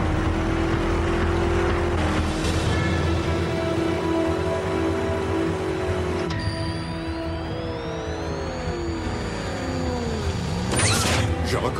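Cartoon car engine in Transformers Prime drawing near, a continuous motor drone with shifting whine tones that rise and bend, fairly loud and steady, ending with a brief burst of noise.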